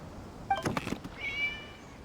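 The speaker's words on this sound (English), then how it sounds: "It was just a cat." A single short cat meow from the video game Genshin Impact, fairly faint, followed by a softer higher tone over a quiet hiss.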